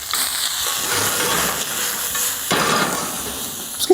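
Bread frying in a little olive oil in a pan, giving a steady close sizzle and hiss with a few soft knocks and clinks, and no talking over it.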